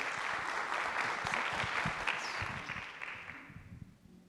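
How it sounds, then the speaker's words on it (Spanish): A brief round of audience applause at a medical lecture on pain in rheumatic diseases, moderately loud at first and then fading away over a few seconds. "un fuerte aplauso para el doctor"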